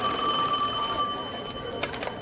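A pager beeps with steady high electronic tones through the first second, then short bursts follow over a background hiss.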